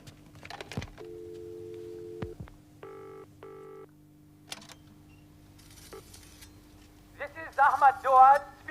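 A landline telephone in a 1988 British drama gives a couple of short electronic ring bursts over a low background hum, followed by nearby voices talking.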